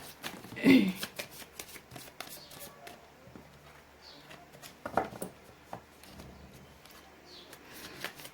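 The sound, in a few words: shuffling tarot cards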